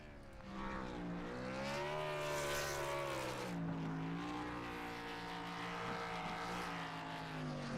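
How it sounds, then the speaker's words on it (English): Race car engines rev hard in a NASCAR-style Gen 6 Cup Series racing video game at a Roval track, sustained and loud, with pitch that rises and falls continuously as the car does burnouts. "If I can hear that engine revving, that only means Kyle Heath is doing burnouts."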